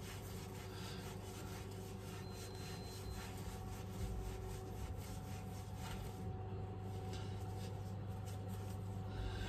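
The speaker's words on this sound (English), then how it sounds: "Obviously that's just a dry scrub, but it feels quite good, to be honest." A brush rubs over skin in dry scrubbing on an arm, a soft continuous scratchy brushing in a quiet room, close but faint, with no talking.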